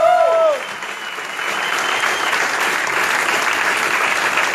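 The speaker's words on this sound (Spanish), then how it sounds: "Un fuerte aplauso para ellas." Loud, sustained applause from an audience at a festival closing and awards ceremony, a brief voice at the start giving way to a thick, even wash of clapping.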